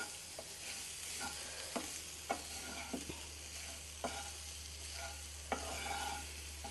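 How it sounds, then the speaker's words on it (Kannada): Raw banana (balekai) fry getting a final stir in a pan with tamarind and coriander leaves added, a steady low sizzle under a series of light spatula scrapes and taps spaced a second or so apart, close and without voices. "ಇವಾಗ ಫೈನಲ್ ಒಂದು ಸ್ಟಿರ್ ಇದು ಮಾಡಿಬಿಡಿ."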